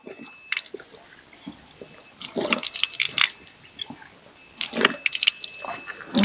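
Drinking water from a temple tap provided for devotees, splashing and gurgling in irregular close bursts, loudest in two stretches, with no talk.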